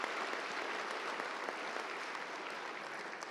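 Dense, steady audience applause at an awards ceremony, a continuous wash of many hands clapping with no break, fairly loud and close, with no talk over it.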